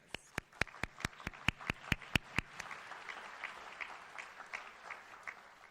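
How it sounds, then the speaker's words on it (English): At a National Honor Society induction ceremony, a dozen sharp, evenly spaced claps ring out close by, then fade into scattered, softer clapping from a small group. "You also deserve a round of applause."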